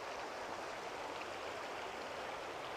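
Rain- and snowmelt-fed little creek beside a Great Smoky Mountains hiking trail, flowing in a constant dense babble and rush of water, close and even in level with no voices over it.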